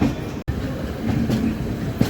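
A train rumbles along the tracks with a steady rhythmic clatter, loud and close, passing a station without stopping in rain, with a brief dropout early on.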